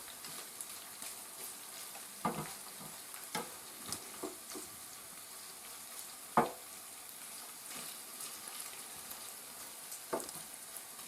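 Sausage pieces and onion frying in a pan give a steady, soft sizzle, with a few sharper clicks and pops from stirring scattered throughout; moderately quiet and close, with no talking.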